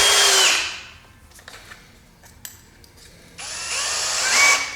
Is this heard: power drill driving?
yes